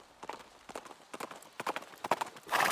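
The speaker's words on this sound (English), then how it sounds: "out from the woods, a horse appeared." Horse hooves clip-clop in an audio story, a series of irregular hoof strikes on ground that grow louder as the horse approaches out of the woods, ending in a burst of rustling noise.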